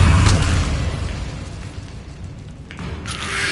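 An Incendio fire spell from the game Hogwarts Legacy goes off as a deep, booming blast with a rumbling low burst at the start, fading out, then a short whooshing flare near the end.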